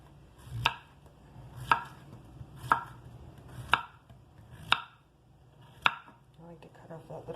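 A knife cuts vegetables into bite-sized pieces for homemade chicken soup, six crisp, close thunks on a cutting board at an even one-per-second rhythm, with no talking.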